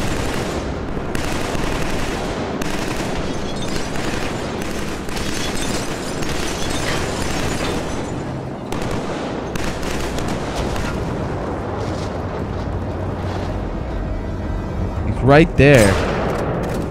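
Gunfire in the first-person shooter Killzone 3: dense bursts of rapid automatic fire and heavy booms crackle almost continuously, with a voice briefly speaking over the battle.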